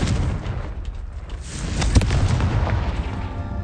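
Confringo blasting spell explosion in the Hogwarts Legacy video game: a dense, booming burst with crackling debris, loud and close, sustained over a few seconds.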